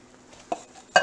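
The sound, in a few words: stirring and scraping seafood pasta from pot bottom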